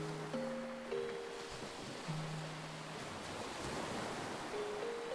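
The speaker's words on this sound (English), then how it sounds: "I'm just mesmerized by the sound of those waves" Ocean waves wash in a continuous broadband roar of surf, steady and moderately distant, with brief tonal notes of music or birds drifting over the top.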